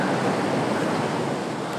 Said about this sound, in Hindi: किस तरीके से पानी का तेज़ बहाव आता है